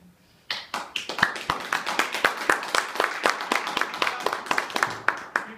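Audience applause at an international UFO conference in Yambol, Bulgaria, a small group clapping in quick, uneven bursts that start abruptly and continue steadily at close range.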